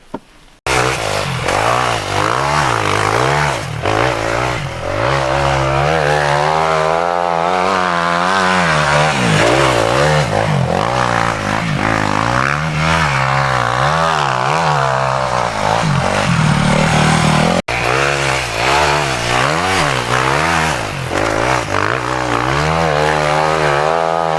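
A motorcycle engine revs hard and close while riding through sand at Ādaži, its buzzing note swinging up and down continuously in surging waves, briefly cutting out once before resuming, with no voices.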